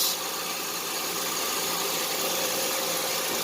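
A 2006 Honda Pilot engine idles just after a cold start, giving a steady, close, even hum and whirr with no change in pitch or level throughout.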